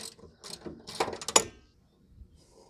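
A ratchet with a 10 mm shallow socket works the bolts on a Troy-Bilt riding lawn mower, giving a short run of close, sharp metallic clicks that peak in a bright burst before trailing off into quiet.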